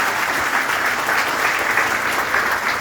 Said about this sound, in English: let's give a round of applause to the Vice President